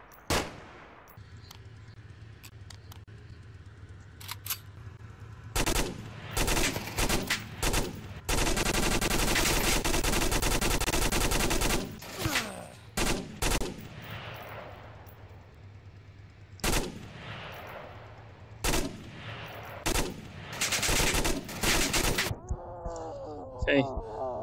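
Gunfire in the Onward VR shooter rings out in loud bursts, a long sustained machine-gun stretch in the middle framed by shorter volleys and single shots, with a player's voice and game noises between.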